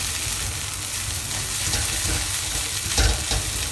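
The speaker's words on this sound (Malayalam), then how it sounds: "അത് നമ്മുടെ ചട്ടി ഒന്ന് നന്നായിട്ട് ഇളക്കി കൊടുക്കാം." Green beans and potatoes with onions are stirred in a pan, giving a close, steady frying sizzle with soft scraping and shuffling of the spoon, slightly louder toward the end.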